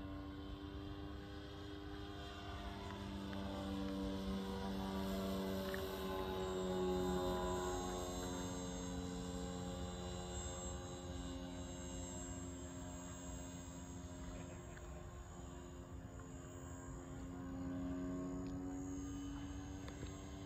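A Hanger 9 Tiger Moth radio-controlled model biplane flies overhead, its engine a steady, faint droning hum that swells and fades slightly as it passes, with no talk.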